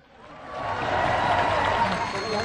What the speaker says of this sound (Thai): ขอเสียงปรบมือดังๆให้กับปตท.อีกครั้งนึงครับ